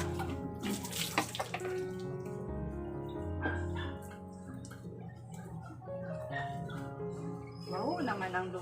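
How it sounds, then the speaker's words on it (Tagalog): Water running from a tap while a dog is being bathed, a continuous splashing flow under a person's talking, with brief louder splashes near the end. "Pagkatapos ni Diway, ako naman maligo."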